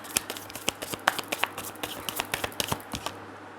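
Tarot cards handled and shuffled close up, giving a quick run of sharp little clicks and snaps at an uneven pace, alone with no voices over it.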